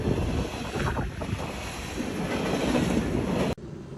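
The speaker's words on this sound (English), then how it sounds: "It's a fun, cheap thrill standing next to a speeding train." Union Pacific Big Boy steam locomotive train speeding past close by, a loud rumbling roar with heavy wind buffeting, cutting off sharply near the end.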